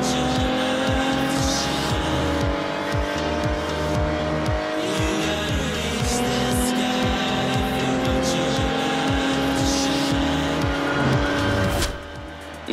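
Car driving hard in Forza Horizon 2, engine roaring loud and close with repeated tire squeals and skids, shifting gears through sustained drifting before a sudden drop near the end.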